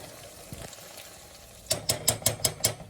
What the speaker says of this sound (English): So we're gonna let this saute down for a bit.